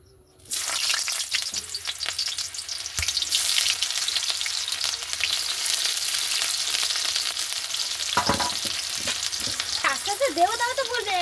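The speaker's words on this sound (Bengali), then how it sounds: "এই যে এবার তেলটা গরম হয়ে গেছে দেখো কেমন আওয়াজ আস্তে করে ছাড়ছি" Onion and chilli hit hot oil for chow mein, bursting into a loud, close, sustained sizzle and crackle after a brief quiet start, with some stirring near the end.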